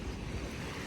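Waves roll and wash continuously onto the white-sand beach at Tumon Bay in Guam, a steady low rushing surf mixed with wind buffeting, with no voices.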